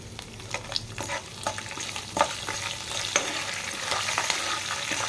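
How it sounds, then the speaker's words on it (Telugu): Curry leaves hit hot oil already holding cumin and mustard seeds for a tamarind rice tempering, giving a continuous close sizzle and crackle with irregular clinks and scrapes of a stirring spoon, and no voices. "ఇప్పుడైతే కరివేపాకు వేసుకుందామండి"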